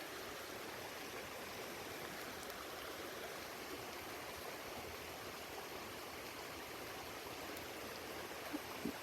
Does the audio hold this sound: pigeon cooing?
no